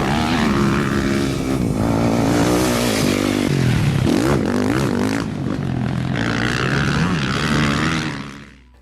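A motorcycle engine drones loudly and close, its pitch rising and falling as the rider works the throttle before fading out at the end. The setting is enduro riding around Pinamar.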